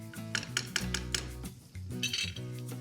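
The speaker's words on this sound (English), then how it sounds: "Getting my onions in here and all that nice olive oil. I'm just gonna give that a stir." Onions being stirred in olive oil in a pan, with clinks and scrapes of a utensil against cookware coming in a few close, uneven bursts and no talking.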